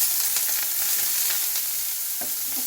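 Finely chopped garlic and onion fry in oil for vegetable fried rice, giving a loud, steady, close crackling sizzle with light stirring scrapes.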